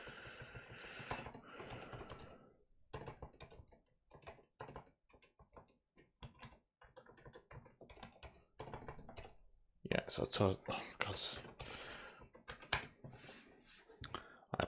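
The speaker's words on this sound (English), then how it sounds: "I apologise for my terrible typing today." Rapid clattering keystrokes on a computer keyboard come in uneven bursts, close and fairly loud, with someone talking briefly over and between the typing.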